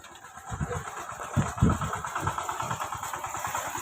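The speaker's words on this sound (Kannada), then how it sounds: "ಇಲ್ಲೇ ಐತೆ ನೋಡ್ರಿ ಗೈಸ್ ಟ್ರ್ಯಾಕ್ಟರ್" A tractor engine idles with a low, rough, pulsing chug that swells briefly in the middle, heard at moderate loudness against a hissy outdoor background.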